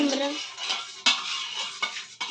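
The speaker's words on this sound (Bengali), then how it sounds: "দইটা একটু গুলে দেবো" Spoon stirring yogurt in a bowl while making dahi vada, giving a few soft scraping swirls and light knocks against the bowl, close and clear with no talk.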